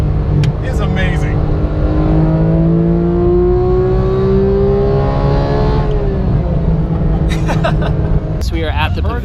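A Porsche GT3 engine revs and climbs steadily in pitch, then eases off, loud and close throughout, with people talking and laughing over it.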